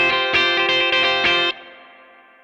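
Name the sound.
electric guitar with spring reverb on Quad Cortex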